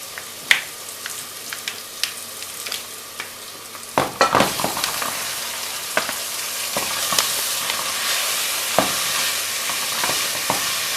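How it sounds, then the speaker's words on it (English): Lean minced beef frying in a hot pan for chilli con carne, a constant sizzle under sharp scraping knocks of a utensil breaking up and stirring the meat, louder and denser in the second half. "I'm going to break up the minced beef and keep stirring until all the minced beef has turned brown"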